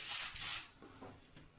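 Green spray paint hisses from an aerosol can onto a black plastic spoon in two loud, close bursts, each about a quarter second long. A softer, fading hiss and faint rustling follow after the spraying stops.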